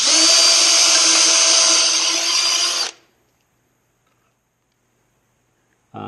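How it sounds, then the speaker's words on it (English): A power drill whines steadily as it bores pilot holes in sawhorse wood. It runs loud and close for about three seconds, stops into silence, then briefly starts up again at the very end. "before I drill the pilot holes"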